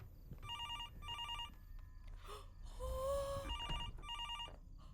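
A telephone rings in repeated double bursts of trilling electronic tones, with a rustle and a brief sharp breath between rings.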